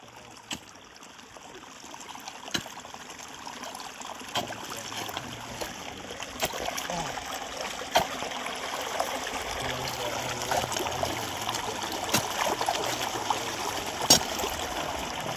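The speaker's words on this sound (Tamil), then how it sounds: "ஃப்ரெண்ட்ஸ் பாருங்க நிறைய தண்ணி வருது" Water flows continuously nearby from a pond during fishing, with a steady rushing trickle, punctuated by occasional faint clicks.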